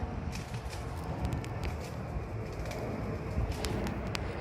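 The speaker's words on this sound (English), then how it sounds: "there's 2 pigeons fighting, if you can hear that" Two pigeons fighting: cooing and steady flapping over a busy, noisy outdoor background in spring, with scuffling wing sounds of the birds tussling close by.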